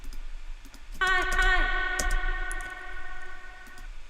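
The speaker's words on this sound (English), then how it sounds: "make a really long reverb tail on this sample and send it to the long verb" A sharp tonal sample rings out and decays slowly into a long, washy reverb tail lasting several seconds.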